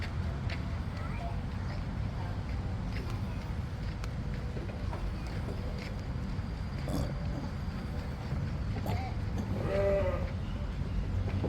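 A goat gives a brief, faint bleat near the end, barely rising above steady crowd noise and people talking nearby.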